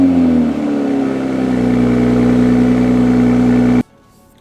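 A 2020 Toyota Supra's engine hums loudly and steadily from inside the car as the drive begins, a smooth droning note that rises slightly before cutting off abruptly near the end.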